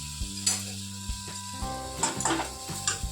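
Drumsticks go into a hot pan for a Gujarati shaak and get stirred, a loud close sizzle broken by repeated metallic scrapes and clanks of the spatula against the pan, with no talking.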